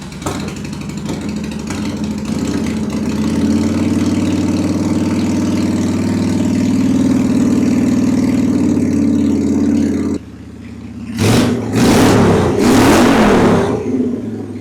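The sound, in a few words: Honda Shadow motorcycle engine running and revving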